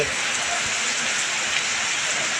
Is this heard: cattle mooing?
no